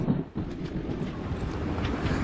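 A moving train rumbles toward a junction, a dense low rolling roar with rattling and faint wind buffeting, heard from close by and continuous throughout.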